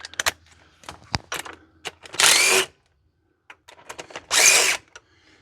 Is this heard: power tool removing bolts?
yes